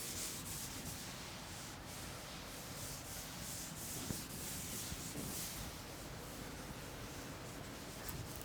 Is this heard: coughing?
no